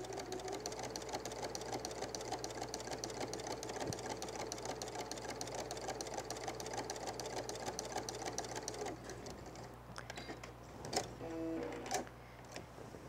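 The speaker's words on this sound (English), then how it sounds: "sew right along this one line" A sewing machine stitching along a line on a quilted fall table runner, a fast steady mechanical whir for about nine seconds, then stopping, followed by a few quieter clicks and handling sounds.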